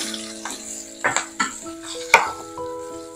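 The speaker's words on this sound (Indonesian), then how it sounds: "tumis dulu." Cooking oil crackles and sizzles in a pan while sautéing, with sharp clinks of a utensil stirring against the pan and a faint steady tone in the background.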